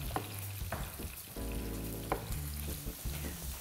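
Mushrooms fry in a pan with a steady crackling sizzle, broken by occasional stirring knocks and scrapes, close and alone without voices.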